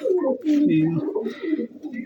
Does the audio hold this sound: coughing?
no